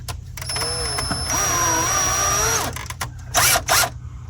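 A power screwdriver driving a screw into wood in an attic, whirring steadily as the motor runs up and backs off, with a brief pause and then more short bursts.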